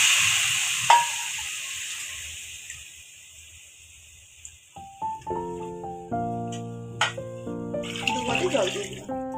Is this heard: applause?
no